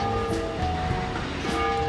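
A train in the video game Bounty Train rumbles steadily with a low, dense engine drone and faint rail clatter, a continuous mechanical roar with no talking.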